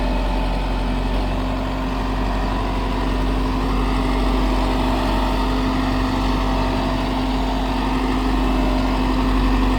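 A new 2026 Sonalika Tiger 75 CRDI tractor diesel engine runs in a clay-soil field, giving off a constant, close, low humming drone with an even steady tone throughout.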